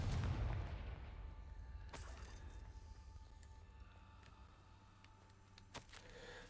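Confringo fire spell cast in the Hogwarts Legacy video game, a loud blasting burst at the start followed by a decaying rumble, with sharper cracks and a smaller pop later in the clip.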